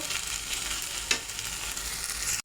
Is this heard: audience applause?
no